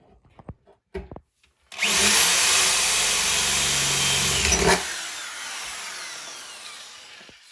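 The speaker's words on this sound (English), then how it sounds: "I just make little bigger hole so that I can use this drill bit." A power drill with a metal bit widens a small hole during a home RO water purifier installation. After a few soft knocks, it roars loudly and steadily for about three seconds, then cuts out, leaving quiet.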